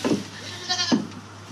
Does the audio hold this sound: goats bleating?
yes